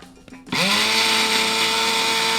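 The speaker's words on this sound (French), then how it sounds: "ça c'est la fusion entre un mixeur et une gourde." A portable blender bottle starts up after brief handling noises, then whirs loudly and steadily as it mixes a strawberry smoothie, close by with no talking.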